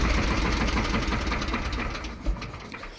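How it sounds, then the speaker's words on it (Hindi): A Swaraj 717 mini tractor engine runs steadily at close range, a loud, dense mechanical chatter with a low throbbing base that eases slightly toward the end. "अब इसका आवाज़ देखिए, ये ट्रैक्टर चलने लगा।"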